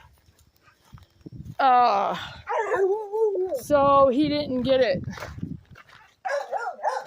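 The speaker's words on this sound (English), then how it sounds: "that was our dog" A dog on a farm homestead whines and yips in drawn-out, pitch-sliding howls that rise and fall across several bursts, close by, with a person speaking briefly in between.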